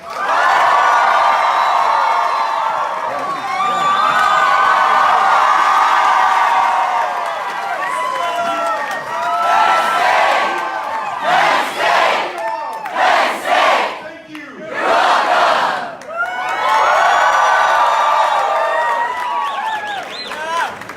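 A large crowd at Penn State cheering and whooping to welcome presidential candidate Beto O'Rourke, loud and sustained with bursts of shouts that swell, dip and surge again.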